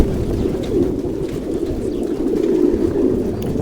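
Pigeons coo continuously inside a pigeon frame, a dense, low, throaty murmur from several birds at once, close and steady throughout.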